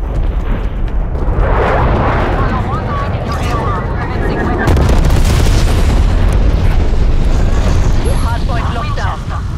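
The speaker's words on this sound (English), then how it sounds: "It's some napalm on my target." Napalm strike explosions roar in a Call of Duty Hardpoint match: heavy booming blasts and rumbling fire in a loud, dense barrage, with game voice lines and radio chatter mixed in.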